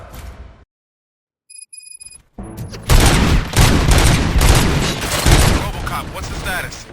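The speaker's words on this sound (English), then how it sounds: "Gunshots? What's going on?" Rapid bursts of gunfire from the RoboCop: Rogue City video game follow a brief silence and a short alarm-like tone, with loud, sustained volleys continuing to the end.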